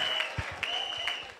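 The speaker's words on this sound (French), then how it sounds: "On applaudit très fort" Brief burst of enthusiastic clapping from an audience at a Congolese church wedding-anniversary testimony, rhythmic claps fairly close, lasting just over a second.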